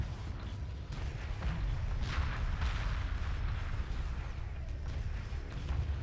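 Anti-frigate ion cannon fire in the space strategy game Homeworld, heard as steady low rumbling and crackling weapon bursts rolling on without pause, with no voices over it.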